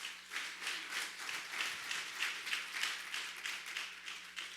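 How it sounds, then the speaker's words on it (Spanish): A church congregation claps together in a dense, rhythmic burst of applause that pulses steadily, moderately loud and close, with no voices over it. "Denle un fuerte aplauso al Rey."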